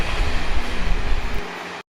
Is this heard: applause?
no